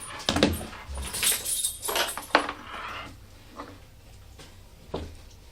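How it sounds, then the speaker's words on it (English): Dogs being picked up and held close indoors, with brief whimpers, jangling collar tags and shuffling bursts spread across the clip, moderately loud and without talk. "I'm going to grab my dogs and hold them in front of the camera"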